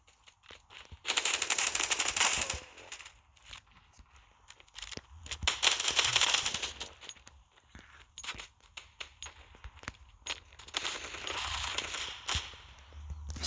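Bursts of rapid automatic gunfire from a shooting video game ring out in several loud, crackling volleys separated by short quieter gaps, with faint background noise between them.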